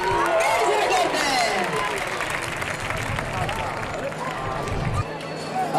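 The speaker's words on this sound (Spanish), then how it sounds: "Ese fuerte aplauso para ella." Crowd noise and applause fill the stands at a recortadores contest in Gandía in 2012, a dense steady roar of clapping and cheering that runs throughout, with an announcer's voice talking over it.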